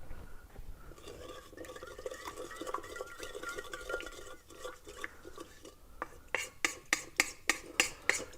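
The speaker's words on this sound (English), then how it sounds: "I'm just stirring this around to get it going" A utensil stirs sugar, yeast and water in a bowl, making soft, quiet scraping at first and then a run of sharp, rhythmic clinks against the bowl near the end.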